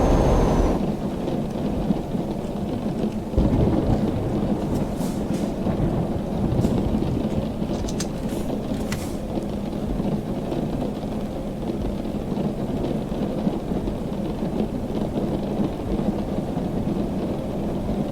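A thunderstorm with rain in Euro Truck Simulator while driving through France: a long, steady roar of heavy rain mixed with deep rolling thunder, broken by a few brief crackles, with no talk.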